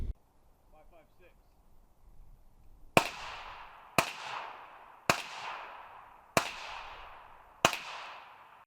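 Five suppressed supersonic .22 Long Rifle gunshots, each a sharp crack with a short decaying tail, spaced about a second apart outdoors after a faint quiet stretch.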